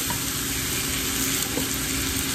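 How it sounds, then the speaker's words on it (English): Smoked sausage, potatoes, onion and bell pepper sizzle steadily in a skillet, a continuous close frying hiss with soft scraping of stirring running throughout. "Go ahead and give this a good stir."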